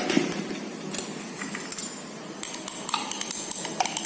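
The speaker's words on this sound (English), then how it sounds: "Add the copper carbonate by pinch and stirring the solution by a glass rod." A glass rod stirs a copper carbonate solution, giving light, irregular clinks and taps against the glass container over a steady low background hiss, with small sharp ticks scattered through the second half.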